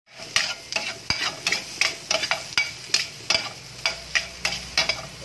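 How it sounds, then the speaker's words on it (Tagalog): Miso added to a pot of sinigang with milkfish and stirred in, a regular series of spoon knocks and scrapes against the pot over a low sizzle, close and steady. "pwede na natin ilaglag ang ating miso"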